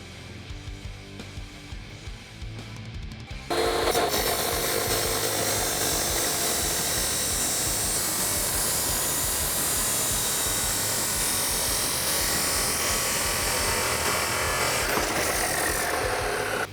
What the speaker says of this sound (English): we're gonna grab our inlet pipe and head to the saw